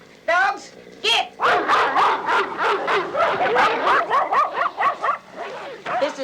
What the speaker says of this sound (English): Dogs, get!